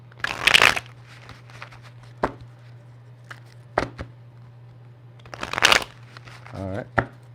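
Tarot cards riffled and shuffled by hand in several quick bursts, close and crisp over a steady low hum, with brief pauses and taps between shuffles.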